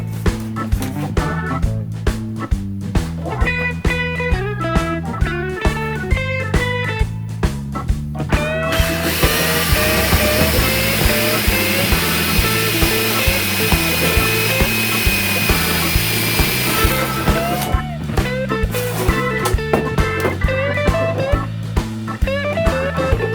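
Power jigsaw cutting through doubled-up styrofoam insulation, a steady close buzzing whine that runs in bursts with a long continuous cut through the middle, no voices.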